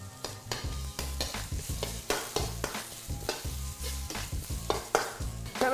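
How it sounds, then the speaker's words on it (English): Ginger, garlic and spring onion searing in smoking hot oil for General Tso's chicken, a loud, crackling sizzle broken by repeated rhythmic scrapes and clanks of a spatula stirring close by. "Start to sear your ginger and garlic, and that's extra bit of spring onion"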